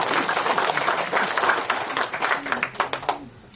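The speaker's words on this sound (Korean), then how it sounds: "박수 한번 칩시다" A church congregation at a Korean ordination and installation thanksgiving service bursts into dense, sustained applause, many hands clapping together loudly and close, then thinning into scattered claps at the end.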